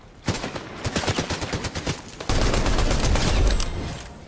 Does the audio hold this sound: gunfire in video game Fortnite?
yes